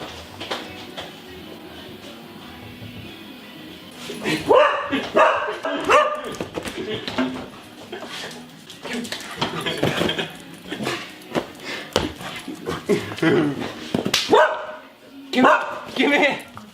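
A dog barks repeatedly in loud, close bursts, mixed with yips and whimpers, in a car-restoration shop while background noise and some talking continue.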